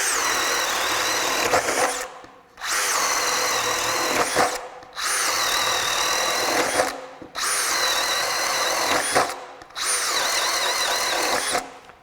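A Craftsman brushless hammer drill with a 1-inch spade bit bores into very wet wood, whining loudly in five long bursts with short pauses between them.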